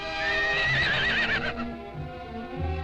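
A racehorse neighs loudly in a 1920s newsreel, one long shrill whinny that wavers and then fades, with a few soft hoof thuds near the end.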